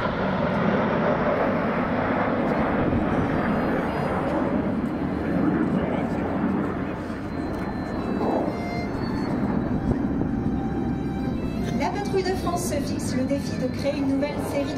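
Patrouille de France jets fly over Paris in a continuous loud roar of jet engines that holds steady throughout, with a voice talking over it.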